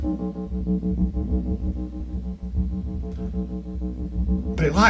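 A buzzy, distorted synth tone from a Roland SH-4D drones with a gritty, harmonically rich texture, ending in a brief burst of noise.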